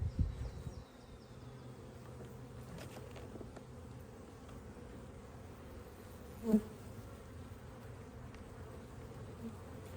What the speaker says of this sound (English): Got a whole bunch of bees in here